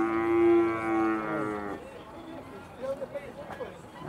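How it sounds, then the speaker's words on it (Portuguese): A cow with a newborn calf gives one long, low moo nearby at a cattle fair in Campina Grande, Brazil, then fades out into murmuring voices and background chatter. "A vaca parida por aqui"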